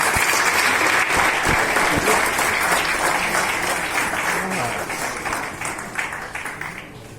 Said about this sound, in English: I urge you all to give them encouragement with a huge round of applause to welcome the first speaker.